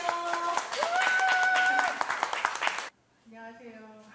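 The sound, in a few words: audience applause welcoming the author to the stage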